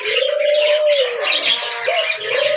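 Pet doves kept on a home balcony give long, low, wavering coos, two drawn-out calls and a shorter one, over a busy background of fainter bird chirping, with no talking.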